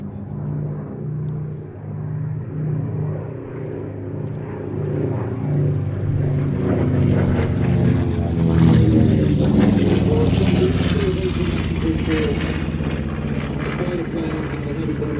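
A twin-engine bomber such as the Mitchell drones loudly at an airshow, its engine roar swelling as it passes close overhead and lingering at high volume.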